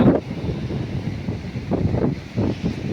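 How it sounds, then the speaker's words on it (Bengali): Rough sea waves and strong wind at Digha beach, a steady low roar of wind buffeting the microphone with surging swells of surf rising and falling throughout, no voices. "দেখুন উত্তাল সমুদ্র"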